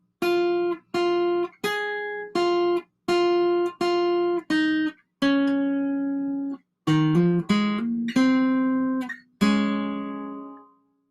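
Solo acoustic guitar plays a short, plucked melodic phrase, clear separate notes ending with a few quicker ornamented notes and a ringing final tone.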